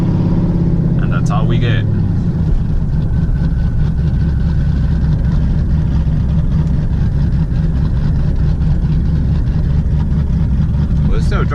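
The 5.3L engine of a lifted Chevrolet Silverado with a TSP 224R cam drones loud and steady throughout, with a brief rise near the start and a voice speaking briefly over it.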